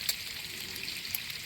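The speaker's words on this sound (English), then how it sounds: "just finishing off the last of the browning of that beef" Beef browning in a pan gives a steady, moderately loud sizzle and crackle with no pauses and no voices.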